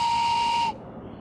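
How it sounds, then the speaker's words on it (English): Depot whistle blown at Carthage Junction Depot, a single loud, steady high-pitched tone held for under a second before stopping abruptly, leaving a low background hum. "I have my depot whistle"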